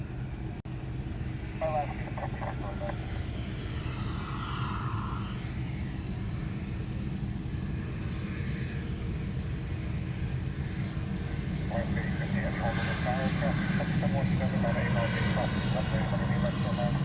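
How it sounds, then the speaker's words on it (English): A Swiss-registered airliner departs Honolulu airport, heard as a steady, loud engine roar that builds slightly toward the end, with people talking intermittently over it. "Isn't that a Swiss registered plane?"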